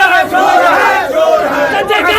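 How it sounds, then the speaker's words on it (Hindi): A protest crowd outside a politician's house chanting slogans in unison, loud and close, with overlapping voices rising and falling in a rhythmic, shouted cadence. "नीतीश कुमार के घर के बाहर प्रोटेस्ट।"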